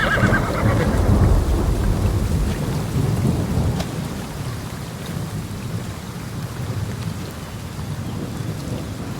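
A summer thunderstorm in an ancient mountain forest in Portugal, with deep rolling thunder up front over steady heavy rain that keeps pattering and hissing throughout.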